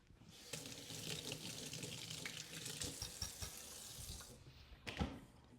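A kitchen tap runs as something is rinsed under it, a steady close splashing stream with a brief louder surge near the end before it stops.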